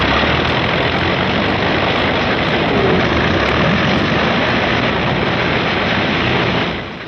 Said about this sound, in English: Out on the line, General Moore's P-51s are warming up for the longest fighter flight on record.